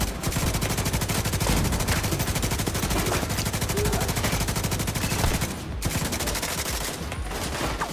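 Rapid gunfire in The Division 2, dense continuous automatic bursts from a long-range shootout, loud and sustained with no talking.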